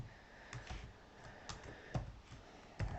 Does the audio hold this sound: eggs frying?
no